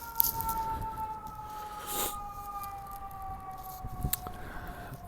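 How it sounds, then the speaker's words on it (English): An ambulance siren passes at a distance as a steady wailing tone under faint road noise, with a few brief louder bursts of traffic sound along the way. "Excuse me, there's an ambulance."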